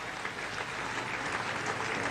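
A bowling tournament audience at the 2008 44th QubicaAMF event applauds steadily throughout, a dense wash of clapping from a crowd heard at moderate distance.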